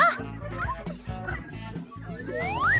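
Dog giving a run of quick yips and barks, near and lively, mixed with squeaky toy-like chirps and background sounds.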